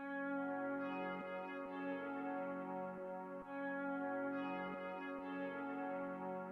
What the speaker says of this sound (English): I added a synth, sounds like this